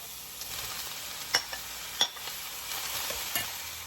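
Diced potato goes into chopped bacon frying in a pan, giving a quiet, steady sizzle broken by a few sharp stirring scrapes and clinks up close.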